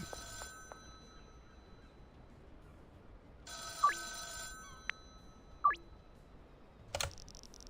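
A payphone ringing in the video game Schedule 1, heard as short electronic ring tones with a few sharp game interface blips and clicks over near silence, quiet and close.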